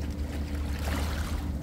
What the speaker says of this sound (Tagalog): Ay, lakas ng alon.